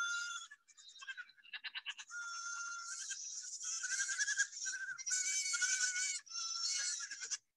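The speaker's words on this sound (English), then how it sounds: "these cute running goats. I'm gonna play the audio just because they sound really cute" Several goats bleat in quick succession, with high, quavering calls that overlap almost without a break. The calls are close and fairly loud, and no one speaks.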